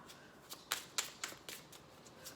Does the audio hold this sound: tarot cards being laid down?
yes